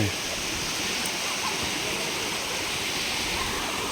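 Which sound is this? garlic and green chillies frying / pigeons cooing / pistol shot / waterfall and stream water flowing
waterfall and stream water flowing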